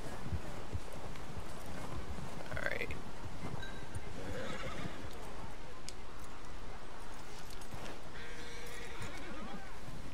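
A horse whinnies once amid an outdoor Red Dead Redemption 2 game scene, the neigh rising briefly over steady ambient noise with faint hoof and background sounds.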